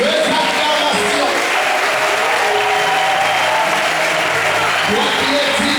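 A church congregation applauds loudly and continuously, a dense sustained clapping that fills the whole moment, with voices faintly mixed in.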